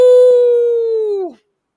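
A single wolf howl sound effect, one long sustained clear tone that holds steady and then bends downward and cuts off after about a second and a half, loud and alone.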